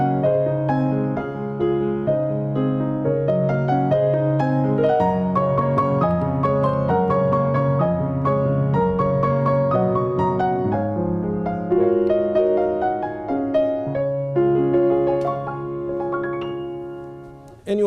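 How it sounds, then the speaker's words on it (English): Piano playing flowing arpeggiated accompaniment in a piece, steady broken chords rolling under a melody for a long, continuous stretch that fades at the end. "the arpeggio is most traditionally used as an accompaniment"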